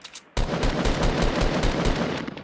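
Automatic gunfire in Fortnite erupts abruptly after a brief quiet moment, a loud rapid burst of evenly spaced shots rattling on for about two seconds, close and alone.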